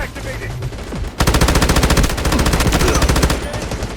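An M249 machine gun fires long rapid bursts in the video game Delta Force, loud and close after a quieter lead-in.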